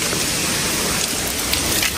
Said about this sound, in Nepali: अलिअलि पानी 5-10 मिनट हुनुसक्छ